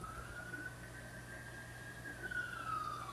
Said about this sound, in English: You can't have an R2K video without police sirens, ambulance, or fire trucks passing by.